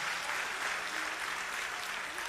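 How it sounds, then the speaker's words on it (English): A crowd at a political rally claps for veterans, producing an even, continuous wash of applause heard from a distance at a soft, uniform level. "let's give them the ruckus round of applause that they deserve for their service"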